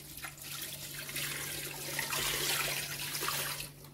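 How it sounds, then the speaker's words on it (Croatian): Water poured into a cooking pot holding meat, garlic and salt for Serbian pihtije, a steady close rushing flow that swells in the middle and continues for several seconds with no talk. "I sipamo vodu."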